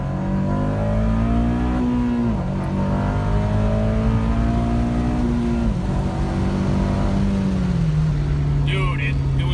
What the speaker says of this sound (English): I'm gonna do a wide open throttle.